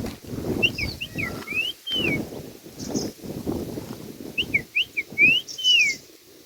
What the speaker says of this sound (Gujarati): એક બર્ડનો અવાજ સાંભળ્યો છે જેનું નામ છે યલો આઇડ બેબલર. એનો કોલ છે